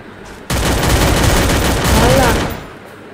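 Gunfire from the mobile shooter Free Fire breaks out suddenly as a loud, rapid burst of shots that lasts about two seconds, then fades back to quieter game sound.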